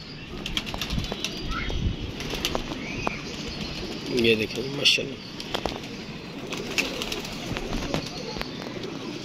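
A homing pigeon returning to its owner's loft, with bursts of wing flapping and soft cooing over steady outdoor background noise while someone talks nearby.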